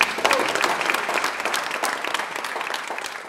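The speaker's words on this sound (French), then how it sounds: "on va les applaudir pour ce qu'ils ont fait" A crowd claps together in steady, dense applause that fades slightly toward the end.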